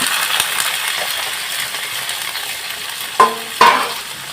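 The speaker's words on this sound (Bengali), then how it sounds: "এবারে আমি আলুগুলো এর মধ্যে দিয়ে দিলাম দেখুন আলু আর আমি পেঁয়াজ কালি একসাথে আগে একটু নুন দিয়ে নরম করে নেব" Potatoes and onion stalks fry in a pan with salt, giving a loud, constant sizzle close by, broken near the end by two sharp metallic knocks of a utensil.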